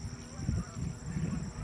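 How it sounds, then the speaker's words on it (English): Geese and ducks honking and chattering in the background at a lakeside campground, repeated low nasal calls in irregular bursts, fairly faint and distant. "You can hear the geese and the ducks in the background just chattering away."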